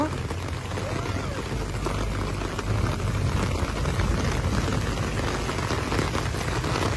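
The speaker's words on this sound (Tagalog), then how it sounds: "kita nyo naman kung gaano kabilis yung ragasa agos ng tubig" Fast-rushing floodwater of the Marikina River during a flood, a dense, continuous roar of churning water that is steady and fairly loud throughout.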